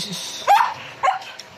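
A pet dog in a Filipino home gives two short, sharp barks about half a second apart, close and moderately loud, over a quiet background with no talking.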